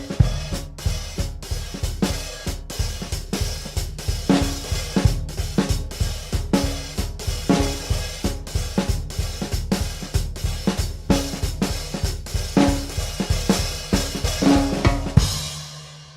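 A drum set plays a swung rendition of a jazz melody, with crisp, evenly spaced hits and a low pitched thump repeating in a steady lilting pulse, close and clear, before stopping abruptly.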